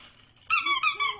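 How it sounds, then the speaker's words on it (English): A Zippy Paws squeaky plush taco dog toy gives three or four quick, high squeaks in close succession, close by and moderately loud over a quiet room. "we have a Zippy Paws Squeaky Plush Dog Toy Taco"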